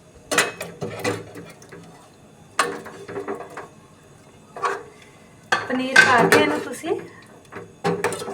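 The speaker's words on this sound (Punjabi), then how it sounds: "ਹੁਣ ਇਹਦੇ ਵਿੱਚ ਮੈਂ ਵਾਲਾ ਪਨੀਰ ਪਾ ਲਾਂਗੀ" Spoon clatter against a pan as paneer goes into shahi paneer gravy, in several short bursts of clinking and scraping separated by quieter gaps, fairly close.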